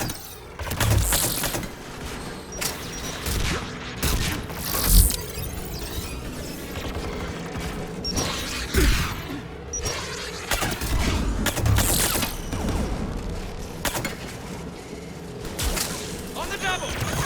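Anti-aircraft guns fire in a Mass Effect 3 battle, dense rapid bursts of booming gunfire and thuds running steadily under loud combat noise and voices throughout.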